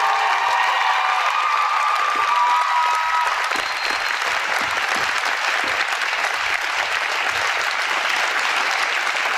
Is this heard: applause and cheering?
yes